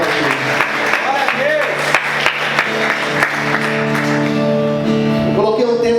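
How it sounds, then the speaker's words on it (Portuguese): Church congregation clapping loudly during a sermon, steady crowd applause mixed under sustained sung or spoken voices and music, continuous and fairly loud throughout. "Aplauda Jesus muito forte."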